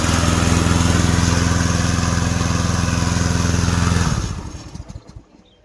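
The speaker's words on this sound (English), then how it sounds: "use this to start the gasoline engine." Gasoline engine of a remote-controlled crawler brush mower running loud and steady at close range, then shutting off and sputtering down to quiet near the end.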